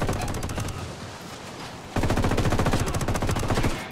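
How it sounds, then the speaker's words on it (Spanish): Sustained automatic gunfire from behind in the Ghost Recon video game, rapid machine-gun bursts rattling continuously, with a louder, closer volley in the second half before it cuts off. "Me disparan por detrás, así que nos cubrimos"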